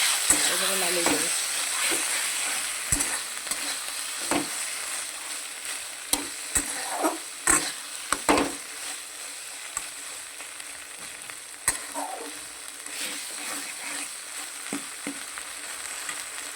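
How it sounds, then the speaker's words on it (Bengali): Aubergine bharta with fresh coriander leaves being stirred in a pan, a faint steady sizzle broken by repeated sharp spatula scrapes and clicks against the metal, spaced irregularly over several seconds. "একটু হালকা করে নাড়িয়ে চাড়িয়ে এবারে নামিয়ে দেবো"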